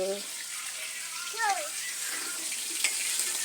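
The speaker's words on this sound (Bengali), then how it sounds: "দেখো মাছ ভাজছে" Fish frying in a pan in a home kitchen gives a steady broadband sizzle throughout, with a brief voice at the start and faint clinks near the end.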